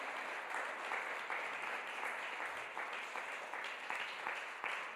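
A church congregation applauding, with dense, steady clapping that stays even throughout and sounds somewhat distant.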